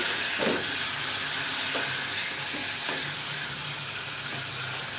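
Tomatoes and onion-based masala sautéing in a hot pan for green peas curry in a Tanzanian kitchen, a steady close sizzle with occasional scraping stirs of a spoon.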